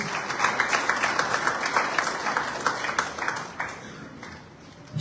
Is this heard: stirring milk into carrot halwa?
no